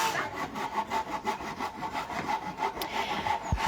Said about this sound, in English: Okay, so there are some power tools.